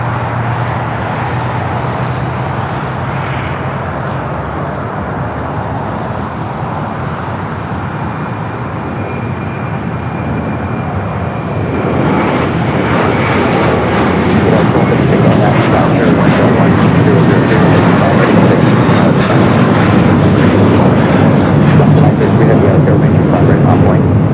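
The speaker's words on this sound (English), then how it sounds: "Next takeoff, flight to JFK, flight 307, American Airlines" An American Airlines A321 jet takes off at LAX on a flight to JFK, its engine roar building from a steady distant rumble into a loud, broad, sustained thunder that holds to the end.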